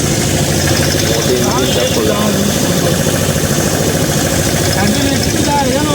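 Delivery vehicle engine idling on a roadside, a steady loud mid-pitched rumble with vibration running throughout, close by, with people talking over it.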